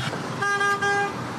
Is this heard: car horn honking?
yes